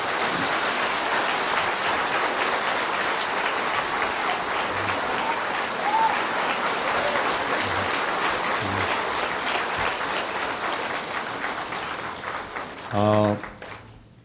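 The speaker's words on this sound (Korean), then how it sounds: "뜨거운 박수로 환영하겠습니다" Warm applause fills a church hall as a speaker is welcomed, a dense steady clatter of many hands sustained throughout, with a brief louder burst near the end.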